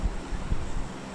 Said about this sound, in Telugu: ఫోను వేడిగుంటే ఫ్యాన్ టేబుల్ ఫ్యాన్ చిన్నది ఉంది కదా ఇక్కడ, దానికి ఆన్ చేసి దాని దగ్గర పెట్టింది.